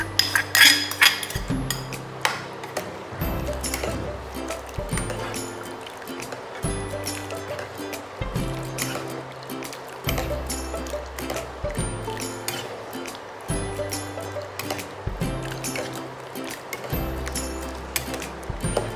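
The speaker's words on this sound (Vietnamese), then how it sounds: "chúng ta sẽ tiến hành cho 500g trân châu đã nấu chín vào trong nồi" 500 g of cooked tapioca pearls go into a pot of sauce for black sugar tofu pudding, in a run of repeated wet plops and scoops with metallic clinks against the pot. The sounds come at a regular rhythm and are close and moderately loud.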